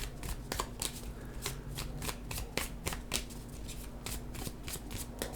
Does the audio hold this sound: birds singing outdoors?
no